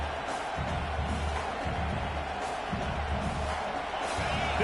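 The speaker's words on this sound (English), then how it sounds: "This crowd bringing the energy." A football stadium crowd at a Minnesota game produces a steady, distant roar of cheering and murmur, with a commentator's voice running over it.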